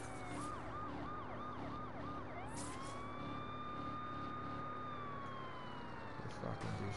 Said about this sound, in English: I gotta use that siren though